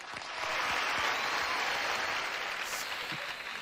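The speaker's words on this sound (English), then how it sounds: "Applause." Steady, dense applause rising quickly and holding evenly, a full wash of clapping from a group, heard alone without talk.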